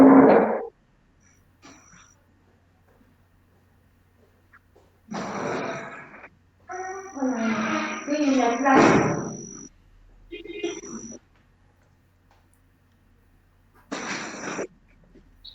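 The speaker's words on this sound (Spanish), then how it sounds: "Acá está el perro." A dog indoors makes short wheezy, snorting breaths and whimpering bursts in separate spurts between quiet gaps, close to the microphone.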